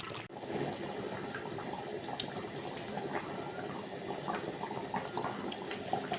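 A pot of fish kuzhambu made with small tank-caught kendai fish simmers on the stove, a soft continuous bubbling close by with a light clink partway through, and no one talking.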